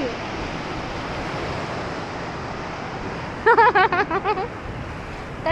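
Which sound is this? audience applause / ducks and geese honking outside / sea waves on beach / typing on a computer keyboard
sea waves on beach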